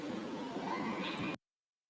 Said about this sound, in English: The wind carries the sounds of horses approaching from the north.